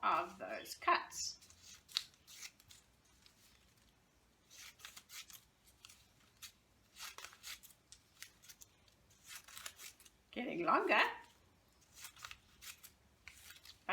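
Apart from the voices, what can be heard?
scissors cutting paper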